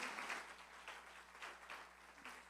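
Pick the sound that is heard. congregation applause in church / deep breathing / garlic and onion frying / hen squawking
congregation applause in church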